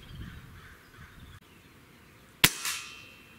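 A single sharp crack as a pellet from an Air Arms TX200 MKIII air rifle strikes a shotgun shell at 40 yards, followed by a brief ringing clang that fades quickly over a quiet outdoor background.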